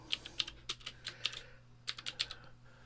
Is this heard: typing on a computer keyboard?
yes